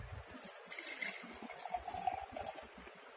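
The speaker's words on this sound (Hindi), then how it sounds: "मैं ए ग्लास का, ए बीकर का पानी बी में डालती हूँ" Water pours from beaker A into glass B in a short, faint, continuous trickle and splash lasting a few seconds.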